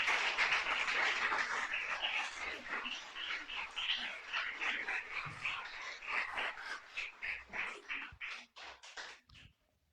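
A church congregation applauds during a Sunday communion service, dense clapping that thins into scattered, separate claps as it fades out.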